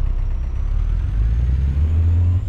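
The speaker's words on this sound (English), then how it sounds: "listen to this glorious rumble of this engine" A heavy truck engine in American Truck Simulator rumbles steadily and loudly, its deep drone rising slightly as the rig gets rolling with a livestock trailer, with no voices.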